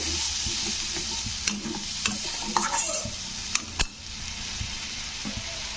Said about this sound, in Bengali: বাড়িয়ে দিয়ে এবার এটাকে নাড়তে হবে